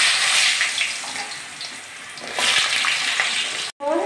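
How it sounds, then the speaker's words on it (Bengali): Potatoes sizzling in hot white oil in a wok, a steady crackling hiss that swells and settles, close and continuous with a brief cut near the end. "প্রথমে আমি আলুটাকে ভেজে নেব"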